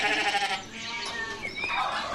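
A sheep bleats on an Edwardian-style farm, a wavering nasal cry repeated two or three times up close, with faint background noise and no clear talk.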